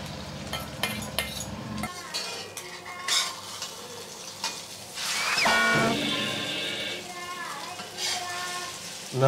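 An omelette fries in coconut oil in a pan, sizzling steadily while a utensil stirs and scrapes against the metal, and voices talk over it.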